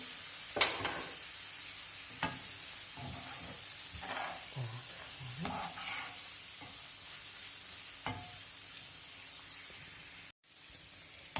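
Carrot cooked in a roasting pan with rabbit sizzles softly, with scattered scrapes and clinks of stirring over a quiet, steady frying hiss.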